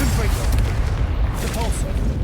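A Bombarda spell explosion in the Hogwarts Legacy video game, heard as a loud, booming, rumbling blast filling the whole moment, with game effects layered over it and a voice speaking.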